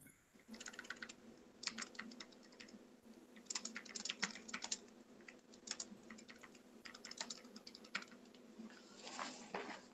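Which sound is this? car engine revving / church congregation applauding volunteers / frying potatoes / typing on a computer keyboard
typing on a computer keyboard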